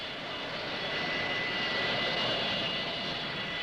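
A fixed-wing aircraft roars at Fort Lauderdale International Airport in 1974, its jet engine a loud, steady, broad rushing drone that holds constant throughout.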